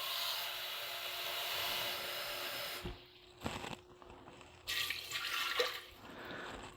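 Water poured from a cup into an Instant Pot holding three eggs, a steady broadband rush for about three seconds followed by a pause, then a shorter second splash and trickle, close by with no talking.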